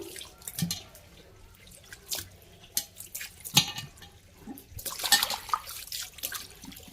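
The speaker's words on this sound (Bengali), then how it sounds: "এই যে তোমাদের সাথে গল্প করতে করতে বেসিংটাও ধুয়ে ফেললাম" Water splashes and drips unevenly in a wash basin being cleaned by hand, close and fairly quiet, with sporadic louder splashes toward the end.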